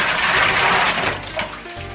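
Water and ice are poured into a bag for an outdoor ice bath on a cold day, a loud, close, gushing splash with rattling ice, tapering near the end.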